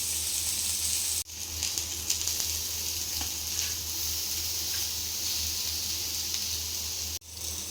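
Paneer tikka vegetables roast in oil with a close, continuous sizzle and hiss, briefly cut twice by sharp drops as the pieces are turned.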